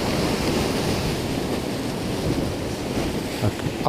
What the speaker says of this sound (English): And there's monstrous waves coming in.